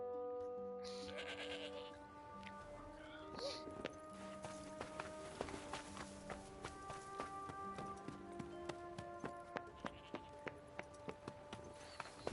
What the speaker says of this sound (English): Nope, just a sheep.